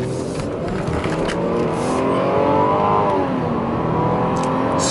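A Lexus GS300 fitted with a Toyota Supra engine accelerating hard through gear shifts on a road in traffic, a steady loud engine drone rising in pitch with brief dips between shifts, heard from inside the car.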